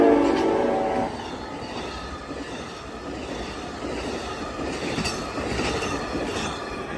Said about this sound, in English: Man, look at that train go